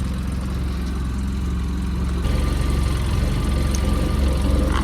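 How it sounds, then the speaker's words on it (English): A Polaris Ranger utility vehicle with close to 1,500 hours and a lit check-engine light idles at around 1,400 RPM, giving a steady, close, low chugging drone that gets slightly louder and rougher partway through. "It's idling at about almost 1400 RPM."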